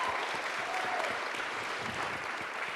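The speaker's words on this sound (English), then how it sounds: "Let's clap it up again for the fellas." An audience at a panel discussion gives a round of applause, with continuous clapping from a sizeable crowd at even volume throughout and no talking over it.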